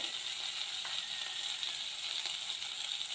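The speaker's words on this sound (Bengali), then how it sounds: "আদার কাঁচা গন্ধটা চলে যাওয়া পর্যন্ত নাড়াচাড়া করে ভেজে নিয়েছি এবার দিয়ে দিচ্ছি হলুদ গুঁড়ো" Ginger paste and turmeric fry in a pan for a papaya paneer dish, giving a steady soft sizzle with faint scraping from stirring, fairly quiet, with no one talking.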